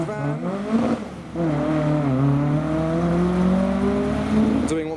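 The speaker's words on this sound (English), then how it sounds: "there goes the Escort van" A Mark I Ford Escort van pulls away from a classic car show, its engine revving and climbing through the gears up close, steady and loud throughout.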